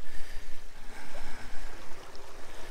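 Water rushing steadily away through a pair of drainage pipes on cleared farmland, a continuous broadband wash with a low churning rumble, close and moderately loud, with no voices.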